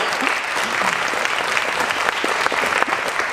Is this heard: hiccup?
no